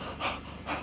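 A person imitates heavy panting, with two sharp, breathy gasps spaced about half a second apart, close and fairly loud, with no words spoken.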